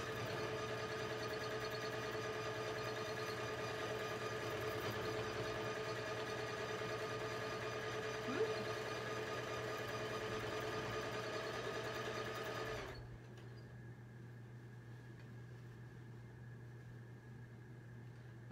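A sewing machine quilts granny square blocks on the diagonal, giving a steady, even mechanical whir that runs continuously for about thirteen seconds before stopping, leaving a quieter hum.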